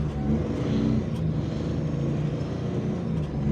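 Suzuki Mehran engine running after being started, with a missing, poor-performing engine: a steady low idle rumble held close and fairly loud throughout, without voices.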